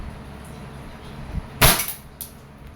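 A single sharp crack from an EMG TTI Pit Viper airsoft pistol firing close by, followed by a brief fainter echo-like tick.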